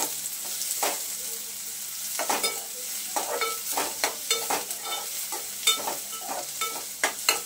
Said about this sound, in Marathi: 1-2 मिनिटासाठी आपण कांदा फ्राय करून घेतलाय